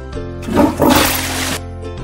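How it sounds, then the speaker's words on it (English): A cartoon toilet in a newborn pony care video game flushes once with a short, loud whoosh of rushing water over soft background music, with no voices. "Can you flush the toilet?"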